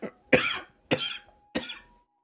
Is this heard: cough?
yes